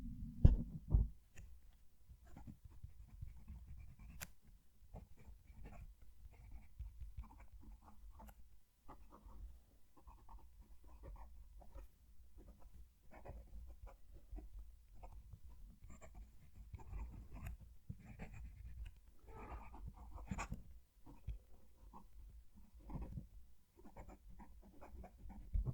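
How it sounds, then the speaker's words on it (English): HongDian fountain pen nib scratching across paper while writing a sentence, a close, soft continuous scritching with small strokes and pauses, steady and fairly quiet throughout. "Let's move the mic and write a sentence."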